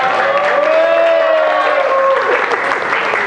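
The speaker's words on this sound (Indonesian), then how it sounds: "Tepuk tangan buat kita." Applause from a classroom of students at the end of an Indonesian-language lesson, steady and fairly loud throughout, with tonal voices or a melodic sound running over the clapping.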